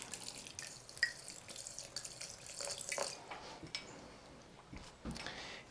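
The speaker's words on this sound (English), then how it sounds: "I'm actually going to fill it with water to start with" Water trickling and splashing from a tap into a pot holding crushed shell for bulb planting, a fairly quiet, uneven pour with small drips and splashes over about six seconds.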